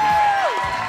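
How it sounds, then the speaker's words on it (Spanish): Brief burst of crowd cheering and whooping from a TV studio audience, loud and dense, with a sliding voice-like tone cutting across it. "¡Un aplauso para Tejana!"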